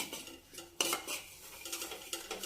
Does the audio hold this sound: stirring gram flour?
yes